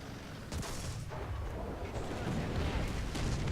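Japanese 75mm tank cannon firing in an arcade-mode tank battle video game, heavy booming blasts and rumbling battle noise rolling continuously at close range, with no talk.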